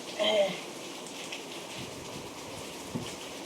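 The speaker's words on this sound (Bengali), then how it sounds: "ঝমঝম করে বৃষ্টি পড়ছে" Heavy rain patters and hisses on surfaces throughout, a continuous wash of drops at moderate distance with no voices.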